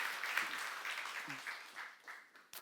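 Congregation applause during a church youth-service sermon, faint and somewhat distant, a soft wash of clapping that thins out toward the end with a brief voice breaking through.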